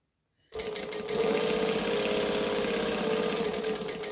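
Sewing machine stitching and backstitching along the long edges of a garment, starting after a half-second of silence and then running loud and steady close by.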